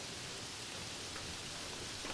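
Rain sound effect in a Bengali cartoon ghost story set on a rainy night, a faint, even wash of steady rainfall with no voices.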